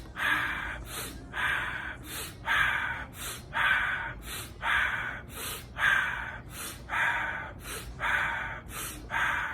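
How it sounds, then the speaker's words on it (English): Deep rhythmic breaths in and out of a Wim Hof breathing exercise, about ten forceful, close breathy cycles with short pauses between them, each a rushing inhale followed by a quick exhale. "it's just 10 breaths in and out with the 2 breath holds that I described"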